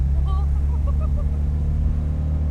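A 50 hp four-cylinder boxer engine in an open-top VW Beetle cabriolet hums in a steady, low, close-up rumble from start to finish, with faint higher tones drifting over it.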